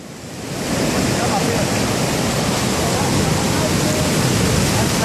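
Fast, deep river water rushes loudly and continuously around a 750 cc ATV stuck in the current, a dense roar with voices faintly mixed in.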